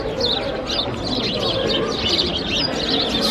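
Many birds chirp and tweet busily in a Paris square lined with cafes and shops, a dense, steady chorus throughout with some pigeon-like cooing mixed in.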